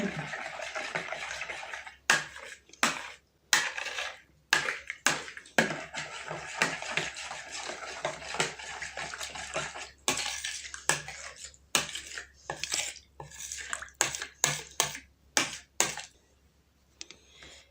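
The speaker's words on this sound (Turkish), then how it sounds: "Bunu da çırpıyorum sevgili takipçilerim" A whisk clatters against a bowl while ingredients are beaten into milk for saya çöreği dough, quick irregular bursts of close metallic scraping and tapping with short pauses and brief moments of quiet.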